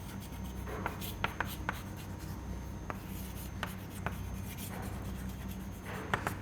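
Chalk or marker scratching on a board during a fluid mechanics lecture, with scattered sharp taps and strokes over a steady room hum, no talking.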